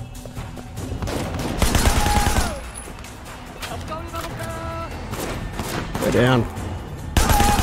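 Loud volleys of gunfire in the video game Sleeping Dogs during a wedding shootout, heavy bursts at the start and again near the end, with someone talking over the action between shots.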